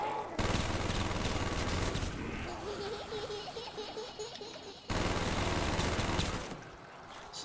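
Sustained gunfire cuts down zombies on the Kino map in Call of Duty Black Ops zombies, long loud runs of shots broken by a brief pause partway through, with faint zombie noises under the firing.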